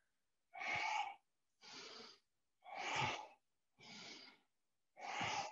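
Deep, rhythmic breathing during a yoga spine-bending exercise, five slow breaths in even alternation of inhaling and exhaling, breathy and close, separated by brief silences, with no talking.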